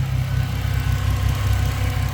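A 2006 Ford Mustang engine runs at a steady idle after its throttle position sensor was replaced. A loud, continuous low rumble with even pulsing holds close throughout, with no voices.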